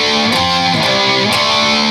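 Electric guitar power chords played through a distortion effect, thick and sustained, with a few chord changes over two seconds, loud and alone.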